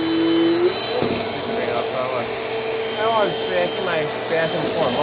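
A Dirt Devil Dynamite Plus vacuum cleaner runs indoors with a loud, steady high-pitched whine, while a person talks over it throughout.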